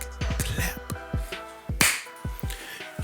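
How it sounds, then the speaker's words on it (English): Sharp, separate slaps spaced irregularly, close and crisp, with no talk over them, at the start of a podcast recording where a hand clap marks the audio sync. "Sync, clap."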